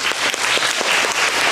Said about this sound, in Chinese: 我也希望借大家掌声感谢杨一帆